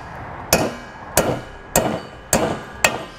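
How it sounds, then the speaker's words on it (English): Hammer blows flattening a metal tab on the rear bumper area of a 2018 Toyota Prius, five sharp metallic strikes at a steady, slightly uneven pace, close and clear with no talking. "We'll just take a hammer."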